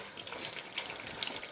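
Chicken biryani sauce made with yogurt bubbles hard on the highest flame as it dries out, giving a steady, close, wet seething with scattered brighter pops and spits.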